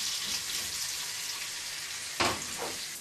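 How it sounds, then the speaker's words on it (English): Steady, bright sizzling of shallots frying in hot oil and butter, with a brief louder burst of crackle near the end as something is stirred or added. "I'm just going to start by frying the shallots off."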